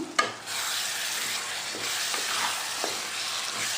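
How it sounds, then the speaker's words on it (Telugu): Potato curry with coriander being stirred in a pan, a continuous hissing sizzle with a few soft scraping strokes of the spoon across the pan, close and fairly quiet. "కొత్తిమీర వేసుకుని మొత్తం అంతా కూడా ఒకసారి మిక్స్ చేసుకుందాం."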